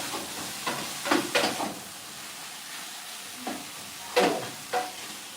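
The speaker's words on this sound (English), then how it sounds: "I'm going to give this another quick stir because it's taking a little longer than I thought." Curry with onions being stirred in a frying pan in Peru: a few quick, close spoon scrapes come in short clusters over a soft, steady sizzle.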